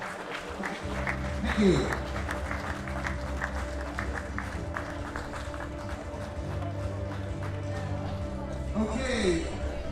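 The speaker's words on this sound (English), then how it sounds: "give them another big round of applause" Audience applause at a powerlifting championship session, a steady crowd clapping throughout at moderate level while an announcer speaks over it.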